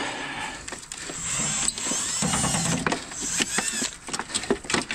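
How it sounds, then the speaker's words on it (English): Bolts being worked loose from an AC unit during scrapping, a close series of irregular metallic clicks, ratcheting and scraping taps that come in uneven bursts, with no voices. "So we can get the bolts undone."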